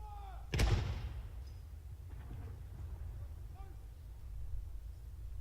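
A ceremonial gun salute for the King's birthday, with one field gun booming sharply once, loud and close, and then a long reverberating tail fading into the distant, quieter crowd and outdoor air.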